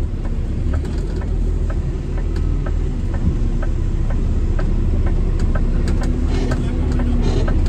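A black car backing up slowly: a loud, close, steady engine rumble with scattered mechanical clicks and creaks over it.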